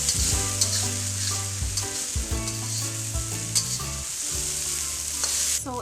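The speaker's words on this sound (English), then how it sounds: "3 minutes of stir frying my rice, there are no large clumps of rice stuck together." Curry chicken fried rice is stir-fried in a pan, with a steady, loud sizzle and repeated scraping and tossing strokes running throughout, and no voices.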